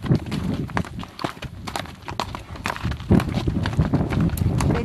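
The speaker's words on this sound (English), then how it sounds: "You can hear my horse climbing the hill." Horse hooves climbing a hill on a trail in Escalante Canyon, loud close irregular clip-clop steps on dirt and rock, with creaks and rustling of tack and rider movement.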